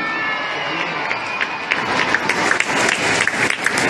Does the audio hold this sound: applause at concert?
yes